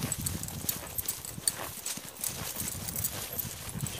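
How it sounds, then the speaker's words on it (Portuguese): A horse walks along with its hooves clip-clopping in a steady, even rhythm, fairly faint and a little distant, with an outdoor background hiss around it. "Olha o cavalinho estiloso aqui."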